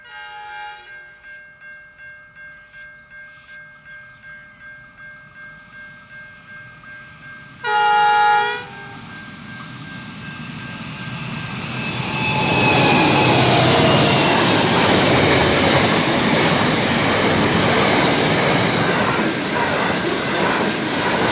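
A train horn blasts once, then a long grain train rumbles past with a growing roar and rhythmic wheel clatter on the rails.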